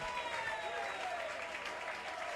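A church congregation at a Sunday service applauds and cheers in a faint, continuous wash of clapping, with voices or music blending in underneath.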